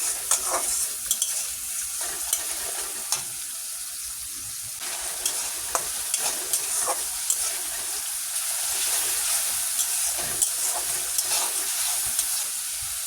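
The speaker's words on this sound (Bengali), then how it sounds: "রসুনটাকেও কিছুক্ষণ ভেজে নিতে হবে যাতে করে রসুনের কাঁচা ভাবটা" Garlic paste fries in a pan with a steady, hissing sizzle while a spoon stirs it, scraping and tapping now and then; no one speaks.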